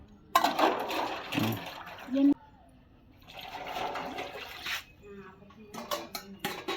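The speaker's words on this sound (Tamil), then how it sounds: "அங்கே பாரு தண்ணி பூரா வதவதுன்னு போகுது" Water splashes and gushes amid clinking dishes and pots being washed, with voices talking in Tamil over the clatter at close range.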